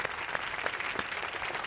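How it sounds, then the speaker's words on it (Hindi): A studio audience on a family game show applauds briefly, a dense, even patter of many hands clapping at moderate distance, with no voices over it. "बहुत बढ़िया जोरदार तालियां आपके लिए"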